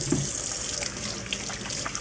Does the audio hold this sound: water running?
yes